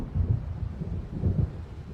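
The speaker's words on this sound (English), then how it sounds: "It seems there's a storm coming." Low rumbling thunder of an approaching storm in the game Alan Wake Remastered, two deep rolling swells with a faint wash of wind and rain, no voices.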